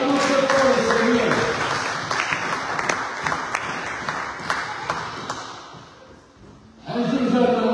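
A church congregation claps loudly in praise during a Sunday service, with dense rhythmic clapping and some voices mixed in, fading briefly near the end before surging back strongly.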